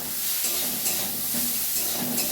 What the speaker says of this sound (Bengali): তোমরা কি দেখতে পাচ্ছ আমি এইভাবে ভেজে নিচ্ছি